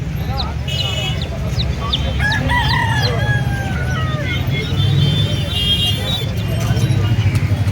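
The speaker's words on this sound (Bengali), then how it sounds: "মোরগ, আমাদের মোরগ চলে এসছে, এখন মোরগ লড়াই হচ্ছে" Roosters crow again and again at a busy chicken market where cockfights are on, several overlapping calls near and far over clucking, road traffic and a crowd of voices.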